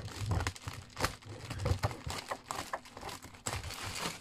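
Cardboard and packaging crinkle and tear close by in a run of irregular bursts, rustling and crunching.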